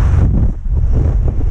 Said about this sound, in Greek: Έχει πάρα πολύ αέρα.